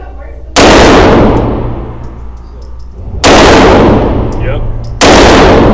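A CZ Shadow 2 pistol fires three loud, sharp shots at a steel target, spaced a few seconds apart, each followed by a ringing decay; a voice speaks briefly.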